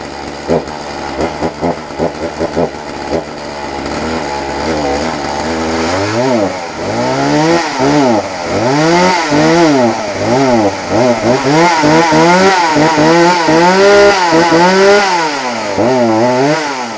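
A 42cc chainsaw with an 18-inch bar is pulled over several times, then starts and runs loud and close, its engine repeatedly revving up and dropping back to idle.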